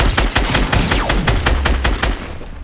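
Dense rapid gunfire and explosive bursts from a grenade launcher firing in an online shooter video game, loud and continuous with overlapping blasts, tapering off near the end.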